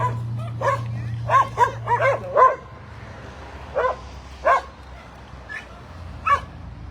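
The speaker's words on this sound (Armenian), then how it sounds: "Տեսեք այստեղ շներ են" Several dogs barking in a neglected park in Yerevan, with scattered single barks and short clusters at moderate distance over a faint low hum.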